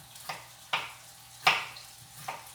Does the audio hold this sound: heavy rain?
no